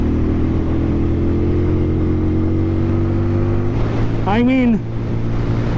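A TVS Apache RTR 200 4V motorcycle engine drones steadily while riding, a continuous mid-pitched hum with a brief spoken remark over it near the end.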